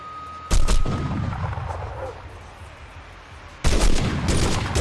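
Loud bursts of automatic gunfire in the crime shooter video game 25 To Life, two heavy rapid-fire volleys separated by a quieter stretch of game ambience.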